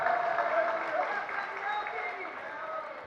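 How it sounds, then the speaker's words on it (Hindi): Applause from an audience at a Jain religious discourse, a steady dense clatter of many hands clapping that holds for the whole stretch and fades only slightly toward the end. "ये सभी जो तालियां जो बज रही है"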